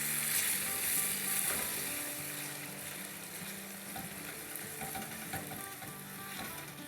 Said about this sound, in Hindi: इसको भूनते हुए भी 30 सेकंड हो गए हैं।